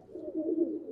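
Fancy pigeons on a house rooftop give a brief, soft, low cooing call, close by and alone.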